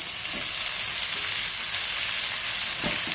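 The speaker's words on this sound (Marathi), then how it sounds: "परतून घ्यावा म्हणजे त्याचा कच्चेपणा निघून जाईल।" Chopped spinach with turmeric sautés in a pan, a loud close sizzle and crackle of frying that carries through the clip, with a couple of soft stirring scrapes.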